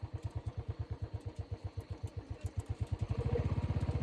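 A motorcycle engine thumps in a fast, even pulse, close and steady, on a muddy, steep farm track, picking up slightly in pace toward the end with no voices over it.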